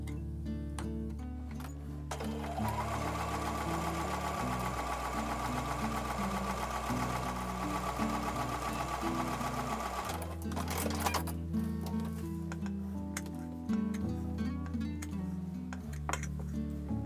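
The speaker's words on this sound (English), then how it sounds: "So I'm going to take those over to the sewing machine and sew with the 1/4 inch seam." Sewing machine stitching quilt block pieces with a quarter-inch seam, running in steady buzzing bursts with short pauses and speed changes, close and loud with no talk.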